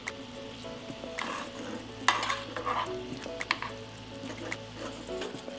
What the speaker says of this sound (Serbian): samo ih ovako okrećite da se fino lepo sos zalepi